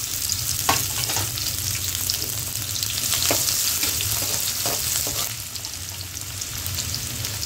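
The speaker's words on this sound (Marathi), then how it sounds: "गरम तेलामध्ये कांदा टाकू," Chopped onion hits hot oil in a heated kadhai for a rustic Maharashtrian pithla, producing a loud, continuous sizzle and hiss close up, with scraping stir strokes breaking through now and then.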